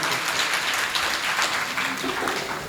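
Loud, dense applause from a gathering at a Jain religious discourse during a festival, continuous clapping close and full with some voices mixed in.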